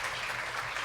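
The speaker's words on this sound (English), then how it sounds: "We can give them a round of applause" Conference audience applause at a biodiversity event, a steady even patter of many hands clapping throughout the short moment.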